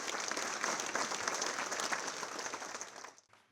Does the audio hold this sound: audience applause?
yes